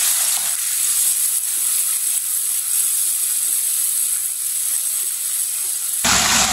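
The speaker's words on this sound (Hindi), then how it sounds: "2 मिनट के लिए पका लेते हैं टमाटर को भी।" Chopped tomatoes cooking in a hot pan on a stove, a loud continuous sizzle and hiss that swells sharply near the end.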